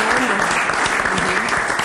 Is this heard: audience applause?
yes